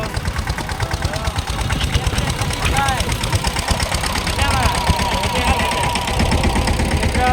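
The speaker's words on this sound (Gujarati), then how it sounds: "ટ્રેક્ટરથી વાવણી કરે છે" A tractor engine runs steadily while sowing a field, a close, continuous chugging rumble with a rhythmic knock that holds through the whole stretch.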